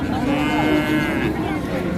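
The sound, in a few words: calf mooing at cattle market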